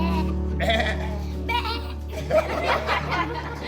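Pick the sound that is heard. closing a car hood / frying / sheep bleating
sheep bleating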